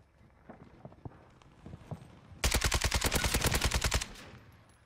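Rapid automatic AK-47 fire in Black Ops 6 on Rebirth Island, a dense, loud burst of evenly spaced shots lasting about a second and a half, preceded by a few faint, scattered distant pops.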